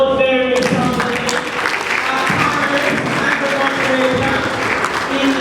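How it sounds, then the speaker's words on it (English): An audience claps throughout a zonal conference hall in Lagos, Nigeria, during a conference on the whistle-blowing policy. A voice is briefly heard at the start, and then the applause continues steadily and fairly loudly. "Please applaud very strongly"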